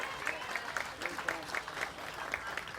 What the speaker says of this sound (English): So let's give Devin a nice round of applause